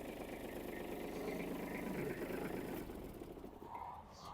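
A small diesel engine of a Kubota or Yanmar mini tractor idles steadily with a low, even chugging rumble, close by, then quiets slightly near the end.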